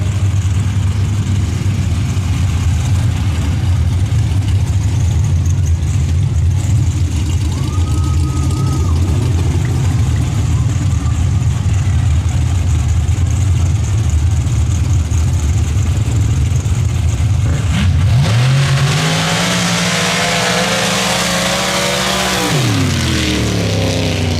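Drag racing cars at a dirt drags event idle and rumble loudly nearby, an announcer talking over them, before one engine revs hard and climbs in pitch near the end.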